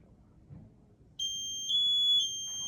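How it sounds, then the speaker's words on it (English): Quiet room, then a sudden loud, piercing high-pitched PASS alarm device initial alert tone that holds steadily, stepping slightly louder partway through. "we're going to test the pass alarm device"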